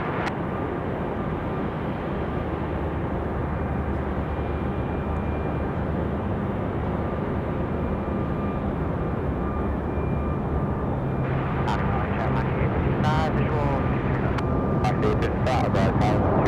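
An airliner takes off from runway 23 left at Raleigh-Durham airport, a loud, continuous engine roar that swells slightly toward the end, with radio voices crackling over it.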